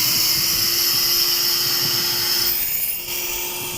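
A grinding machine cuts along the edges of a rooftop floor being prepared for epoxy, giving a loud, continuous, high-pitched whine with a steady tone that eases slightly near the end, with no voices.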